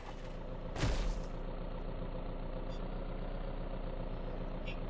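A truck engine idles steadily in a zombie video game, a low rumbling drone throughout with one brief sharp hiss burst near the start, like an air brake release.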